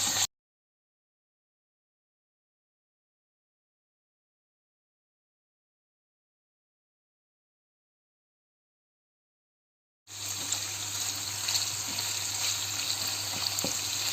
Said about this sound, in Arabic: هسه نحمس اللحم.